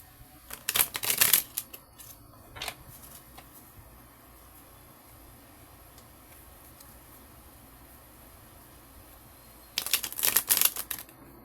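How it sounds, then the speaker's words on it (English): Two bursts of rapid riffling and flapping of tarot cards, one at the start and one near the end, with quiet room tone between. "I shake things up a bit by shuffling more."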